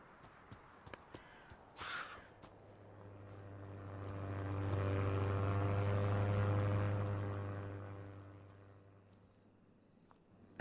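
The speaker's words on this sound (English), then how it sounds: "And then the plane came again, and the bombs dropped." A propeller plane passes overhead in the survival horror video game Misery, its deep droning engine swelling from faint to loud mid-pass and fading away, with a few scattered clicks and a crow-like call early on.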